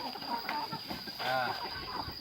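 Farm chickens cluck softly and intermittently while pecking at napier grass, with a steady high-pitched hum in the background and faint movement noises.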